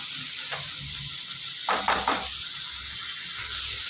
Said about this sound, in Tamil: நல்லா அந்த தக்காளி நல்லா குழஞ்சி வர வரைக்கும் வதக்கிக்கலாம்